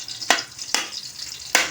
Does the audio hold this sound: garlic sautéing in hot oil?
yes